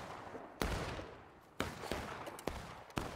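Musket fire at a 33rd Virginia Civil War battle reenactment: four sharp, loud reports spaced about a second apart, each with a long echoing decay across an open field, no talk.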